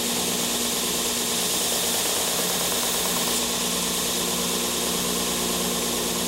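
An edge sander runs at a steady, loud, dense whir while a tight radius is sanded on wood, with a constant motor hum and no letup throughout.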